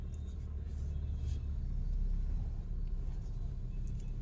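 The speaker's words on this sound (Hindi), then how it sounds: "ये देखिए गाड़ी चल रही है।" A Mahindra Scorpio engine rumbles steadily while the car is being driven, a continuous low drone at moderate, even level throughout, with no talk over it.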